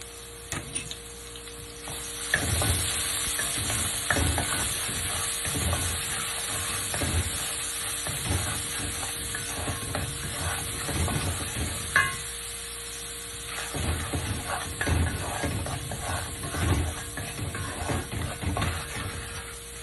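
Onions frying in hot oil with salt just added, a steady sizzling hiss with crackles and soft stirring scrapes, close and continuous throughout, no talking.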